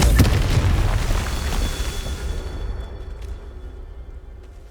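A Confringo fire spell explodes in the Hogwarts Legacy video game: a loud, close, booming blast that rolls off into a long, fading rumble, with no talking.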